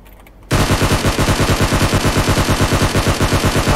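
A loud, sustained automatic weapon burst fires in a video game, a steady rapid stream of shots at about ten per second running without a break.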